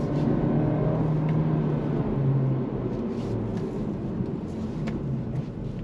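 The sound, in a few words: 2025 Acura Integra A-Spec accelerating on throttle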